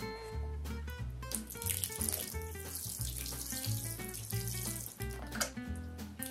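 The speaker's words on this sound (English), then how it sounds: "And then you want to water it." Water is poured into the soil of a small potted avocado tree, making a steady splashing, running-tap sound that lasts throughout under upbeat background music.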